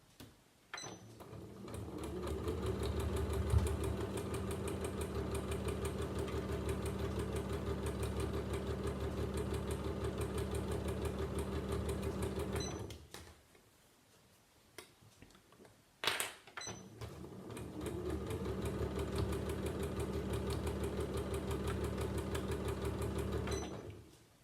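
A sewing machine runs steadily along the seams of a fabric drawstring bag for knitting or crochet, a close, continuous mechanical whir that stops briefly midway, then resumes at the same even pace.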